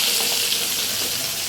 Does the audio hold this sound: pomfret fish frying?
yes